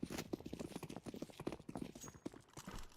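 Rapid, rhythmic footsteps in Counter-Strike thud steadily through the whole stretch, dense and fairly close, with faint game ambience behind.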